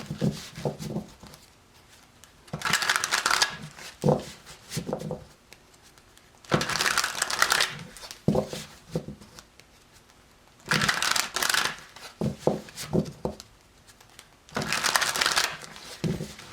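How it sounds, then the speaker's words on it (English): Tarot cards are shuffled in several quick riffling bursts separated by pauses, with soft taps and handling sounds between, close and fairly loud. "One more shuffle."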